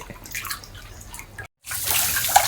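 Water splashes and runs while a catfish basin is washed, a close irregular sloshing and trickling that breaks off briefly, then returns brighter and louder.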